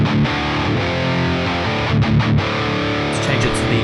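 A distorted electric guitar plays through the Archetype Rabea amp plugin on its default 6L6 tubes, with loud, close chugging chords and short pauses between them.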